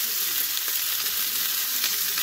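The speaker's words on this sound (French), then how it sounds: "Ce poisson se comporte très bien dans la poêle." Fish frying in oil in a pan, a loud, dense, continuous sizzle that stays even throughout the short stretch, with no voices.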